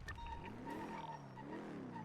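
A car driving nearby in the GTA NoPixel roleplay game, a steady engine drone with tire squeal and rising and falling pitch throughout, heard alone without talk.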